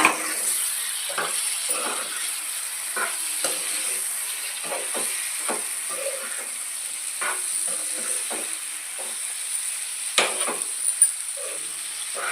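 Raw small fish (mettalu), seasoned with chilli powder and salt, fry Konaseema style in a pan, with a constant hiss broken by scattered spatula taps and scrapes, and a couple of louder knocks near the end.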